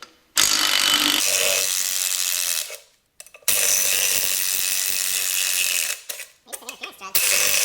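A Loctited bolt is worked loose on a Kubota engine in a steady run of loud, close mechanical ratcheting and grinding. Several short pauses break it up, with a stuttering burst near the end.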